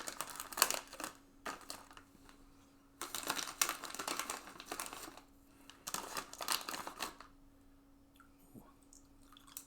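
A snack bag from a monthly snack crate being torn and crinkled open, bursts of crisp plastic rustling and crackling in several close, loud rounds separated by short pauses, no voices.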